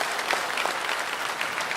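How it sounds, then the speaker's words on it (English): Applause at a Shenzhou-20 crewed spacecraft launch celebration, breaking out after the mission is declared a complete success; dense, steady clapping from a large crowd fills the whole stretch at an even level. "I feel the need to applaud as well"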